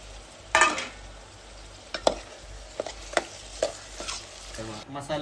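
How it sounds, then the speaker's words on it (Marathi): Prawns drop into a pan of fried onion and tomato, with a few sharp spatula scrapes and knocks against the pan over a low, steady sizzle, close by. "आता आपला बघा कांदा टोमॅटो भाजून हे झालं आहे, भाजून घेतलं आहे मस्तपैकी. आता कोलंबी टाकून घेऊया."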